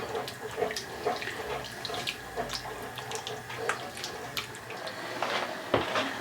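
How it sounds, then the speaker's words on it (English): Water poured into a pot of sausage, chicken and shrimp gumbo on the stove, a steady splashing trickle with small bubbling flickers, fairly soft and without talking. "we're going to put a little water in here"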